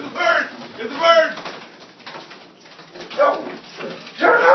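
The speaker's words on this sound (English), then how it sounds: "It's a bird!" A bird trapped inside a chimney calls and flutters in short bursts, with a soft cooing quality, while excited voices talk and shout close by.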